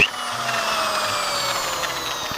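A power drill whines steadily at close range, a high motor tone droning continuously with faint low clunks underneath.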